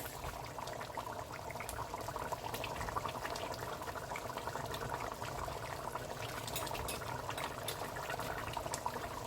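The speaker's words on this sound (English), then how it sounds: "let me rinse my fork" Tap water runs steadily while a fork is rinsed under it in a home kitchen, a continuous splashing hiss with no talking.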